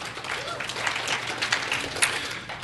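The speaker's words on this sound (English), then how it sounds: "thank you for that half-assed applause" Brief, scattered applause from an Alcoholics Anonymous meeting audience, modest and uneven, with some voices mixed in.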